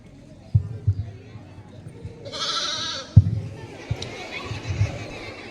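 During a Christmas nativity skit, a single brief bleat like a sheep rings out midway, set among scattered thumps, footsteps and quiet stage sounds.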